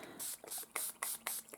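Water sprayed from a spray bottle onto art journal pages, five short hissing bursts in a steady rhythm, close and fairly loud.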